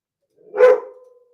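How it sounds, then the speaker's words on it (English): A single dog bark, fairly close and sharp, ringing out once and trailing off briefly in an indoor room. "Can't be having that barking in the background."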